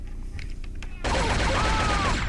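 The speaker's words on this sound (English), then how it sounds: "Aha! I killed you by shooting you in the knee." Gunfire bursts out in the sci-fi mech shooter Shogo: Mobile Armor Division. A dense, loud, steady roar of shots starts abruptly after a second of quieter game sound with a voice, then continues to the end.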